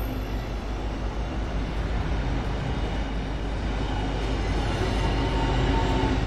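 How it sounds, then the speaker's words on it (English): A Southeastern Javelin train passes nearby as a steady, broad rumble with rail and motor noise, holding even and fairly loud throughout with no voices. "And there's another javelin from Ramsgate"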